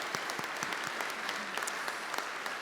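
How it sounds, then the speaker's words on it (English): Audience at an awards ceremony in Melbourne's Deakin Edge gives a round of applause, a steady dense patter of many hands clapping with crisp individual claps, heard at a moderate distance and fairly faint. "That's a big round of applause for our team to be able to do that."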